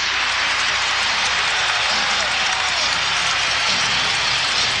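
Loud, dense crowd roar with applause fills a basketball arena during a 2003 Western Conference first-round playoff game, Lakers at Timberwolves, a steady wall of cheering and clapping throughout.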